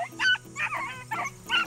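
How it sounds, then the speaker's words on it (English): Hunting dogs on a rabbit trail bark and yip in short, excited bursts, with several separate calls at moderate distance and no talk over them. "She done found a rabbit. She's calling all the rest of the dogs."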